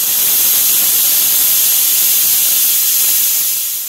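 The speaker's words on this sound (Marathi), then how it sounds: "आता हे मी कुकरला लावते आणि 3 शिट्ट्या काढून घेते" A kitchen pressure cooker vents steam in a loud, continuous, steady hiss that stays close and unbroken throughout, with no voices.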